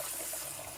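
Tap water splashes steadily into a cordless vacuum's dust bin as it is rinsed, a short continuous hissing stream heard close up with no talking.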